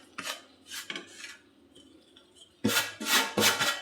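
A spoon scrapes and clanks against a pan while roasted flour is stirred into hot jaggery syrup for sukhdi, giving a series of close, bright metallic strokes with a brief quieter pause between bursts.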